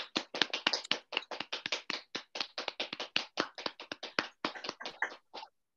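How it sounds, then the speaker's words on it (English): Scattered, slightly uneven hand claps from an online audience after a poetry reading at a literature festival, close and fairly quiet, a few dozen separate claps with no talking. "we should all give everybody a round of applause"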